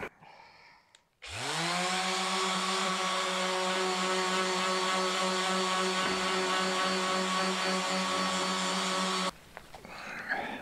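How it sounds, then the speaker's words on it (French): A power sander with a polishing pad buffs a custom wooden mallet. The motor spins up abruptly to a loud, steady whir that holds for several seconds, then cuts off, leaving quiet workshop sounds. "on va mettre un dernier coup de tampon avec la ponceuse et un peu de polish"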